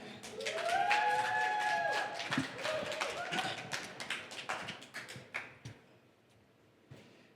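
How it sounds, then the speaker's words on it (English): At a conference on Ethereum in Denver, the audience applauds a speaker being welcomed to the main stage, with brief scattered clapping and cheering voices that fade out within a few seconds. "So let's give a round of applause for Jiho."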